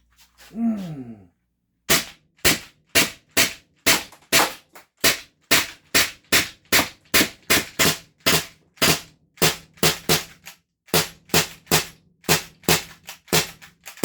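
An Umarex HDB 68 CO2 air pistol running off a Sodastream tank is fired in a rapid mag dump: about two dozen sharp, loud pops at a fast, slightly uneven rhythm after a brief mechanical rattle.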